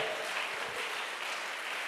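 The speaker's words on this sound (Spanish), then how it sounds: "Dale un aplauso fuerte al Señor en esta mañana" Church congregation applauding during a morning service, a steady, moderately loud wash of many hands clapping with no break.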